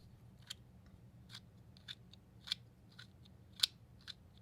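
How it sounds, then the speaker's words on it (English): A 3D-printed fidget toy gives quiet clicks like a pen, sounding as about eight evenly spaced, crisp snaps against near silence. "almost like a clicking of a pen, but very quiet"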